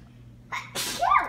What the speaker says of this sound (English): Someone's got sneezes.